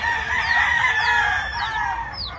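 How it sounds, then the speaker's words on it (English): Round Head Albany chickens cluck and call close by on a farm, with a rooster's crow rising among the flock's chatter. "These are some of the best chickens a man can ask for."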